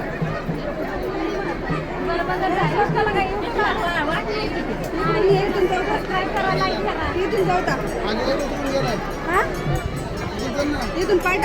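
Dense crowd chatter and babble fill a busy village fair in Maharashtra, with many voices overlapping close by at a steady, loud level throughout.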